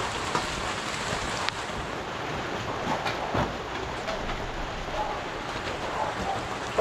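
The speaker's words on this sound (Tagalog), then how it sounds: "Ayan na, ang ulan." Steady broadband hiss of rain falling throughout, with a few scattered sharper taps and clicks, continuous and moderately loud, with no clear talk.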